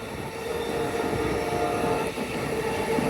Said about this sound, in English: That's one of the biggest Amtraks I've seen.